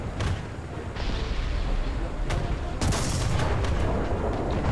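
In the War Thunder video game, the Brummbar tank gun fires heavy booming shots over a constant loud engine rumble and battle noise. A few sharper blasts stand out against the dense, roaring din.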